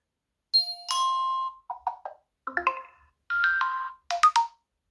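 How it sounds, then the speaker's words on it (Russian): Notification tones on a Tecno Camon 20 Pro phone play one after another: a run of short electronic chimes and melodic blips, each separated by brief silence, clear and close with no talking. "Есть еще звуки уведомлений, тоже можете повыбирать"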